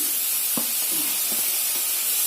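Tomatoes fry in hot oil for an egg masala curry, a loud continuous sizzling hiss with a few soft clinks and stirring knocks underneath.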